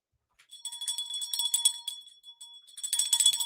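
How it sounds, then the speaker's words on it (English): A small bell rings repeatedly in bright, clear strikes with brief pauses between bursts, close by and without voices. "We ring the bell."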